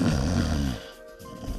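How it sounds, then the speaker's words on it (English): A sleeping person snores with a deep, rattling inhale that fades into a quiet pause before the next breath begins, close and loud. "people in North America snore while sleeping"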